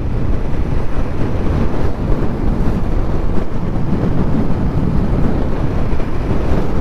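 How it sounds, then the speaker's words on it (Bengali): Small fishing trawlers putting out to sea along the Digha coast, heard as a steady, loud rumble of engine and water mixed with constant wind buffeting, no pauses. "ছোট ছোট ট্রলারগুলো মাছ ধরতে যাচ্ছে"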